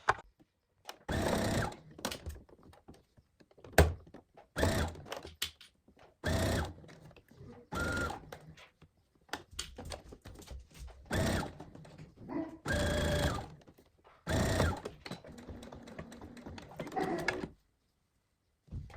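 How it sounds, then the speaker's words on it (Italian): A sewing machine stitches fabric for a scented fabric hot-air balloon, about half a centimetre from the edge. Its motor whirs in repeated short bursts separated by silent pauses, close and clear. "adesso me lo vado a cucire vicino al bordo, circa mezzo centimetro dal bordo"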